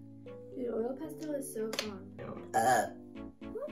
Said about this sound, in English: I can't believe you just burped on camera like that.